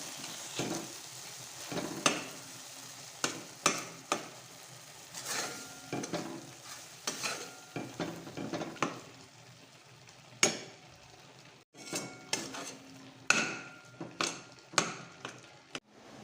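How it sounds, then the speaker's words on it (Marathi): Khoa roasts in a kadhai for carrot halwa while a spatula stirs it, giving a steady run of scraping strokes and occasional clanks against the metal over a soft sizzle, close and without talk. "बघा मी इकडे कढईमध्ये खवा आता भाजून घेणार आहे"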